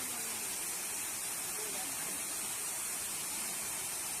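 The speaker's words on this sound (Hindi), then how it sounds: "इधर छोटा वाटरफॉल" A small waterfall at Basistha Temple in Guwahati pours as a constant, loud, even rush of water that fills the whole scene without a break.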